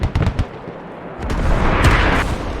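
Artillery rounds slam into an enemy hab in the Squad video game: a quick run of sharp close blasts, then a heavy rolling roar of impacts and rumble that builds and holds loud.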